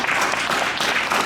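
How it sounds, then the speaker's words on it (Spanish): Applause from a church congregation honouring a couple married 30 years, a dense, steady wash of clapping that holds at full strength for the whole moment with no voices on top. "Eso sí merece un aplauso y en 30 años."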